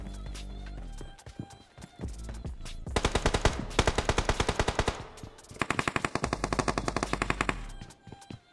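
Rapid automatic gunfire from the battle-royale game BGMI, with two long sustained bursts of evenly spaced shots after scattered earlier shots, loud and close, with no talking.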